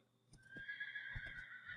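A Minecraft horse neighs in a high, drawn-out whinny over quick clip-clop hoofbeats, short and fairly faint, with a game-like sound.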